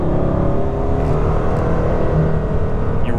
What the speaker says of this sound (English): you can really hear the turbochargers working way down low when you load it up